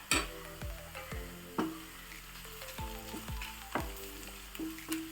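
Dried red chillies drop into hot oil with sliced onions for a Kerala parippu fry, giving bursts of sizzling and crackling amid stirring clatter, close and moderately loud with no talk.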